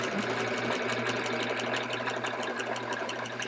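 A sewing machine stitches a Charming Chevrons quilt with a walking foot attached, running as a steady, continuous mechanical hum and rapid needle chatter at close range, unbroken for the whole stretch.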